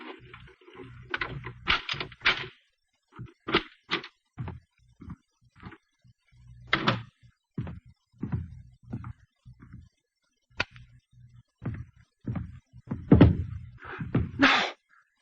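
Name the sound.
key inserted in apartment door lock, door opening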